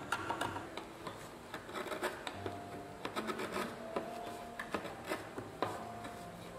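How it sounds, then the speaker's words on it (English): A small hand planer shaves down the bulging node of a hollow bamboo pole for furniture, giving a steady run of dry, rasping strokes with sharp scraping bursts, close and fairly quiet. "take the small hand planer and start removing the bulges of the node portion"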